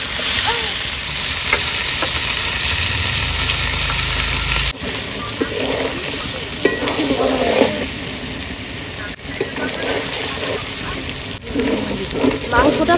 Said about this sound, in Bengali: তো মশলাটা কষানো হয়ে গেছে, এবারে মাংসটা দিয়ে দেবো।